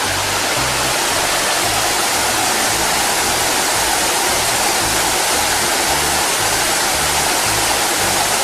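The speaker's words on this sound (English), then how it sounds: "Quite a nice little pond there and a little waterfall." A small waterfall in Litchfield National Park pours into a rocky pond, giving a steady, loud broadband rush of falling water that holds constant throughout with no voices.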